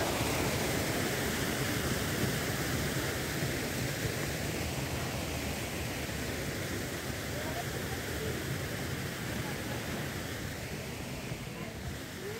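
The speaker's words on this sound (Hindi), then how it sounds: "कितना सुंदर बाबा ने झरना बना रखा है" A waterfall in a park garden at Mount Abu gives a steady, broad rushing wash of falling water that fills the whole stretch without letup, with no voices over it.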